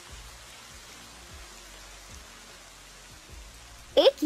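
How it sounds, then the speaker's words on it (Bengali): Rain beginning to fall on a sunny day, a soft steady hiss of drops that stays faint and even throughout, with a brief voice breaking in at the very end. "এই দেখলাম রোদ, আর এরই ভেতরে বৃষ্টি শুরু হয়ে গেল"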